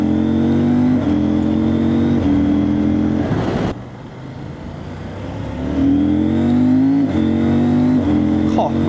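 A CFMOTO 800MT Explore motorcycle engine revs hard with rising pitch, broken by quick shifter gear changes, a brief drop in the middle, then climbs again; a rider talks over the engine throughout.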